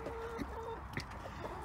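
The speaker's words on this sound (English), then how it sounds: "Happy chickens." Chickens cluck in a chicken pen with a newly serviced floor, several soft, faint clucks and short calls scattered over a low background hum.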